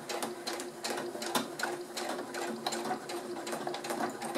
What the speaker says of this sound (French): je suis en place pour coudre uniquement mon zip